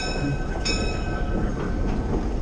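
A train rolls steadily along the rails between Powder Creek Trestle and the new Rincon siding, heard from on board as a continuous rumble with faint clicking wheel noise, no voices.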